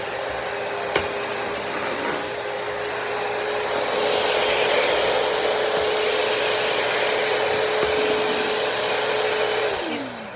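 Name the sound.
Shark VM252 VACMOP Pro cordless vacuum mop running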